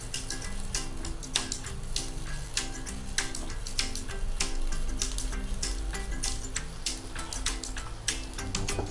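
Small vegetable pancakes of spread batter fry in hot oil for children's lunchboxes, giving a steady close crackle with dense sharp pops throughout and no talking.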